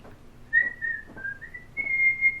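Someone whistles a short, light rendition of "Whistle While You Work" alone, the clear notes wavering gently over a quiet background.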